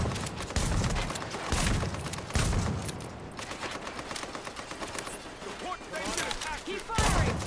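Shotgun fire in Tom Clancy's The Division, heavy repeated blasts in quick succession amid battle noise, with a voice speaking over parts of it.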